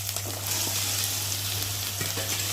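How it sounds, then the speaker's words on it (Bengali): Chicken sizzles in a pan of fried spice paste, a continuous close crackle with a low steady hum beneath and faint stirring scrapes. "এখন আমি চিকেনটাকে ঢেলে দেবো"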